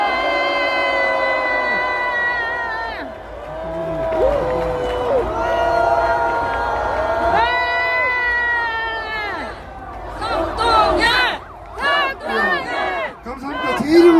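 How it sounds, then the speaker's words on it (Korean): A crowd at a Korean political rally opposing a presidential impeachment cheers and shouts, with long sustained yells swelling and falling, then shorter bursts of chanting voices toward the end. "큰 박수로 모시겠습니다."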